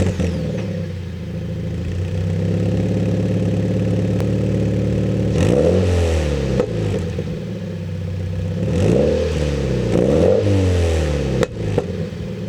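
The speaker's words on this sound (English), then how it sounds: "And it does pop, so I'll give you a sound clip." Subaru BRZ fitted with a Comp RS exhaust idles, then revs up several times, each rev sweeping up and falling back with pops and crackles, loud and close with no talking.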